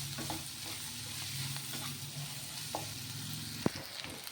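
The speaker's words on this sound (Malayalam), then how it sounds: "ക്യാപ്സിക്കം ഇട്ട് കൊടുത്ത് നല്ലോണം ഇളക്കിയെടുക്കാം കേട്ടോ" Capsicum stir-fries in a pan for fried rice, a gentle sizzle under repeated stirring scrapes and a few sharp utensil taps, fairly quiet and without voices.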